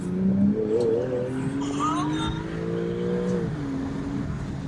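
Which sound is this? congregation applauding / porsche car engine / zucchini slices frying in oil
porsche car engine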